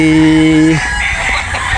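At a clean backyard coop kept by a longtime poultry breeder, a rooster lets out a loud, close crow that cuts off after under a second, followed by softer clucking and farmyard murmur.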